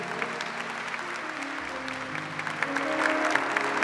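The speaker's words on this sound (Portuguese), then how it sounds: "pode aplaudir se você entendeu" Church congregation applause during a homily, a dense wash of clapping that swells slightly toward the end, with no talking.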